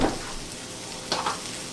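Butter sizzles in a frying pan while steak and potatoes are being cooked, a close, crackling hiss with a louder burst at the start and another flare of spatter near the end.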